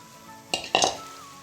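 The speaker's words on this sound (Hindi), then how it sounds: "देखो 1 मिनट के लिए इसको मैक्रोनी को भून लेते हैं।" Macaroni frying in masala in a pan over medium heat: two quick scraping stirs with a light sizzle, close by, then a quiet background.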